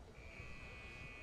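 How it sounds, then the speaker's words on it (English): A long, steady electronic game buzzer sounds faintly at a high school football game, Manatee Hurricanes versus Gulliver Prep, droning under low crowd noise. "Hey, there goes the buzzer."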